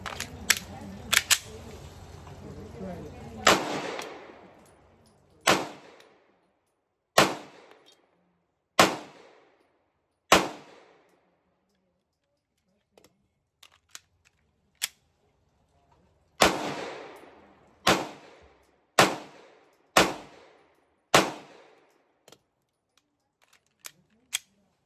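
Shots from a Canik TP9 Taran Tactical Combat Edition 9mm pistol at an outdoor range, about fifteen sharp cracks spaced one to three seconds apart, loud and near, each with a short ringing tail.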